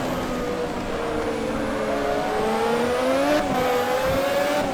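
A 1988 Formula One car engine in the Automobilista racing game screams at high revs, pitch rising and dipping through gear changes in a loud, continuous whine.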